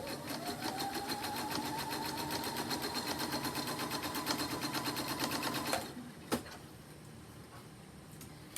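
A sewing machine rapidly stitches fabric pieces of a face mask together. The steady, fast mechanical whir runs for about six seconds, then stops, followed by a single sharp click and quiet.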